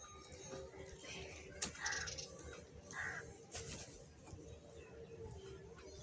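Crows cawing outdoors near a home kitchen, a few harsh calls at a distance, faint against low background noise with scattered clatter.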